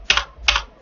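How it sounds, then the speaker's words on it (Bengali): Two crisp, close clicks of a key being pressed on a computer keyboard, about 0.4 seconds apart, with no talking. "তাই আমরা এটাকে এন্টার প্রেস করে বেরিয়ে যাব"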